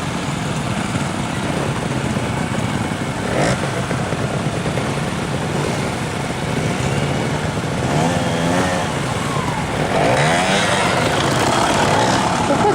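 A motorcycle works through a cone course, its engine rising and falling in short revs amid steady outdoor noise, with people talking nearby.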